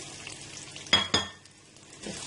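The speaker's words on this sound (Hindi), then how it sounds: "घी हमारा मेल्ट हो गया, अब इसमें हम प्याज डाल देते हैं" Onions drop into melted ghee in a pan for chicken nihari, setting off a sudden burst of sizzling with two sharp splattering crackles, then a steady hiss as they fry and are stirred.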